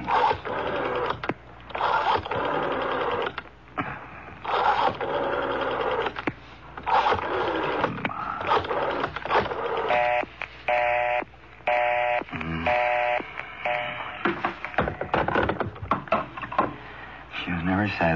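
A rotary telephone is dialed in an old radio crime drama, giving a run of mechanical clicks and whirring returns, with voices talking over and around the dialing.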